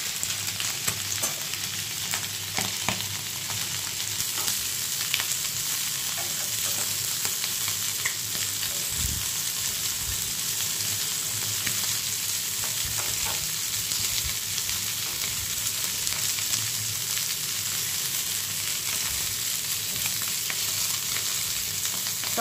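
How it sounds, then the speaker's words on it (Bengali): Chicken pieces fry in a pan with a dense, steady sizzle close by, broken now and then by brief stirring scrapes, with no voices. "চিকেনটাকে আমি ভেজে নেব।"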